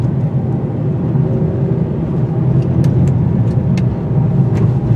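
A 2019 Hyundai Veloster N-Turbo, front-wheel drive, is driven hard on a road test, giving a steady loud engine and road roar from inside the cabin with a few faint clicks.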